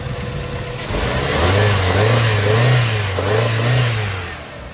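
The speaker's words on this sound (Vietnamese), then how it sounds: "máy nổ rất là đanh luôn" A Mazda3 automatic car engine revs up and down several times in a smooth, rhythmic pattern, close and fairly loud.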